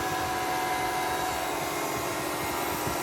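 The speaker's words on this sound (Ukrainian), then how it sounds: "Ось такий звук зараз від кондиціонера йде." A Toyota bZ4X 2WD air conditioning compressor, cooling in 29°C heat, hums in an unpleasant steady, continuous mechanical whir with a faint tonal drone, unchanging from start to finish with no talking.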